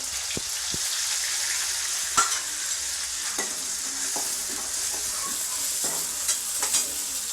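Garlic and onion frying in a pan while cooking kantola, a continuous close sizzle broken by spatula taps and scraping stirs at irregular intervals, with no speech.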